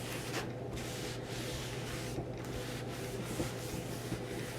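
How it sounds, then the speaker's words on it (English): Soft, repeated rubbing strokes of damp paper towel wiping dust off a cabinet door, close and quiet over a steady low hum. "I'm just going to take some damp paper towels and wipe this off"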